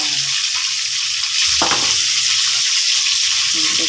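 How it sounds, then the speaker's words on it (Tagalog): Garlic and onion are sautéed for spare ribs adobo in coconut milk, a steady close sizzle in hot oil with one brief clatter of a utensil partway through. "mag-start na po tayo ng gisa"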